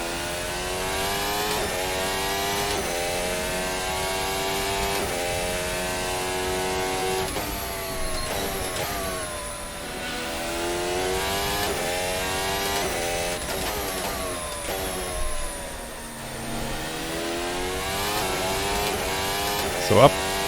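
A Formula Hybrid 2022 F1 car in Assetto Corsa accelerating hard, its high engine whine climbing through the gears in repeated rising sweeps, with someone talking over it.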